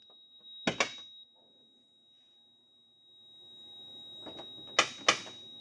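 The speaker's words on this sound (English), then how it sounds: "if you hear it click twice again, that kicked the solenoid twice just in case the first time didn't work" Door popper solenoid in a 2025 Ford Police Interceptor Utility K9 upfit firing, heard as a sharp double click, then after a pause another pair of loud clicks against a steady electronic tone, close by.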